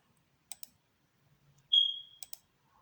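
A few crisp, close computer mouse clicks come in quick pairs while selecting spreadsheet grid line options, with a brief faint tone between them in an otherwise quiet room.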